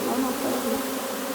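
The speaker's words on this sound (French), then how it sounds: "les abeilles sont pas contentes, les faux bourdons, quelques-unes qui reviennent aussi" Agitated honeybees and drones swarm around a hive, a continuous close, dense buzzing drone with no speech.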